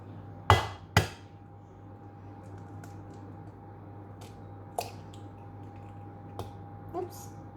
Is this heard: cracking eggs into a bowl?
yes